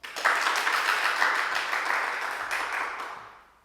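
Applause from a church congregation fills the room, a dense patter of many hands clapping together that holds steady before tapering off.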